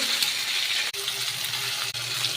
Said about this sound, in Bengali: দিয়ে এটাকে ভালো করে আলুটাকে কষিয়ে নেব